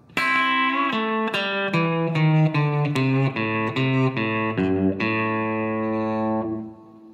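An electric guitar plays a quick twangy hybrid-picked country lick, a run of picked notes with a slight overdrive, ending on a held, ringing note.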